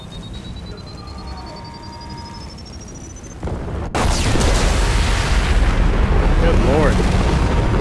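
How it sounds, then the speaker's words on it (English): A loud explosion in the video game Mass Effect 2 booms suddenly after quieter gunfire-filled combat ambience, leaving a dense, roaring rumble that fills the rest of the moment while a man briefly exclaims. "I feel like that was the biggest explosion we've seen with one of those things yet"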